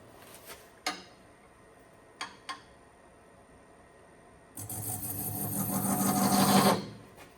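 A notch is carved into an urn to seat its top. A few faint ticks and taps come first, then a brief rising, rasping scrape of the cutting tool for about two seconds before it stops.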